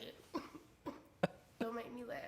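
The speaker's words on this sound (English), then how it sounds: "the coughs just keep going, like you can't stop the coughs" Several short, separate coughs, about four sharp bursts spaced across a couple of seconds, fairly close and moderately loud, the last one trailing into a throaty voiced sound, in a podcast studio setting.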